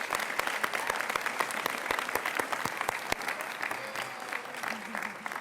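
Crowd applause at a university commencement and graduation ceremony for an honored professor, a fairly soft, continuous patter of many hands clapping with sharper individual claps poking through and faint voices beneath.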